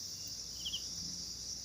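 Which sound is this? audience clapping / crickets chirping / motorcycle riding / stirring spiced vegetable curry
crickets chirping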